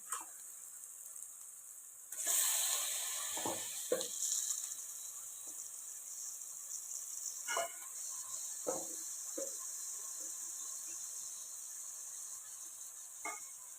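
Chicken pieces drop into hot oil in a pan and set off a sudden loud sizzle that settles into a sustained hiss, broken by occasional pops and stirring knocks.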